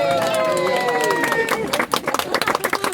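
Wedding guests applaud and cheer together in a crowded room, steady dense clapping mixed with babble and a few voices, loud and near, thinning toward the end as speech breaks through.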